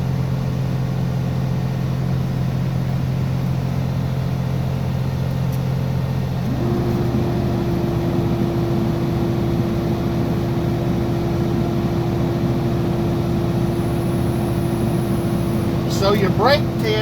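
A truck engine idles steadily to build up air brake pressure during a pre-trip inspection. Midway it steps up to a higher, steady drone, with a hiss and faint clicks near the end, heard from inside the cab.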